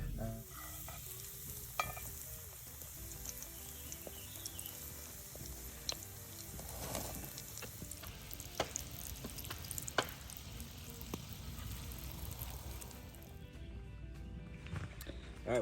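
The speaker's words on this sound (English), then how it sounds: "we got some fried crappie here" Crappie caught on a camping and fishing trip and pickles fry in a continuous close sizzle, with scattered pops and the clicks and scrapes of stirring and turning through the whole stretch, no speech.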